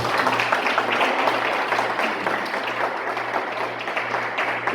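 A church congregation claps together in praise, a dense, sustained wash of applause with a low steady hum underneath and faint voices mixed in.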